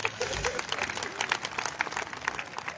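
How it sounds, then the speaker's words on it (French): A crowd claps steadily, a dense patter of many hands applauding together, moderately loud and continuous throughout. "applaudissez très fort pour lui"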